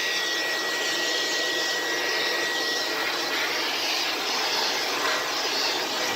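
A vintage 1970s Air Way Sanitizor Mark V vacuum cleaner runs steadily, a loud, continuous whooshing roar with a faint high whine, close by and unbroken throughout, with no talking.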